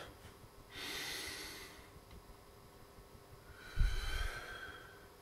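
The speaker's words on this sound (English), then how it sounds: "Take a breath." One person's slow breathing, close and soft: a long airy inhale early on, then a sharper, louder snort-like intake of breath later, with quiet gaps between.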